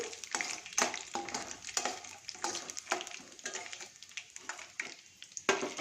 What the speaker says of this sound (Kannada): ಇವಾಗ ಒಂದು ಮೂರು ಸ್ಪೂನ್ ಕಡಲೆಕಾಯಿ ಬೀಜ ಹಾಕ್ತಾಯಿದ್ದೀನಿ ಇದೆಲ್ಲ ಸ್ವಲ್ಪ ಚಟಪಟ ಅಂತ ಹಿಡಿದು ಸ್ವಲ್ಪ ಕೆಂಪಗಾಗಲಿ